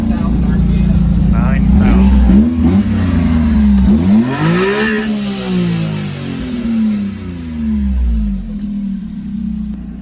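A Honda Beat kei car's small engine revs hard toward its 9,000 RPM limit, loud and close, climbing and falling in repeated sweeps over about ten seconds while a person talks.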